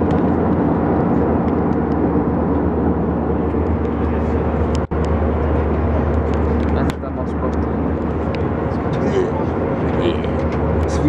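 A loud, steady engine roar fills the cabin, a constant low drone like an airplane in flight, with people talking close by over it.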